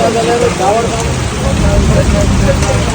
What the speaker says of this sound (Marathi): काय पाऊस पडायला लागला ना आता यार.